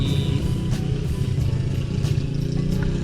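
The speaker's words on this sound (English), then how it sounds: "He's got a really loud exhaust on his quad." A quad fitted with a loud exhaust rumbles steadily and strongly in the low range, its engine note droning without a break as the machine draws closer.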